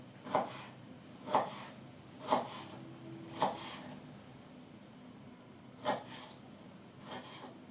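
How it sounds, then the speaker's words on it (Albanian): A knife chops tomato into small cubes on a board, with six crisp, spaced cuts, evenly at first then with a pause, close and clear over quiet kitchen background. "E presim shirita të hollë dhe pastaj e presim në kubik shumë të vegjël."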